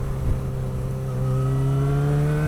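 A Honda motorcycle with the E-Clutch system downshifts through a corner, its engine note dropping and then holding a steady, rising drone close by, with a short step in pitch as the gear changes.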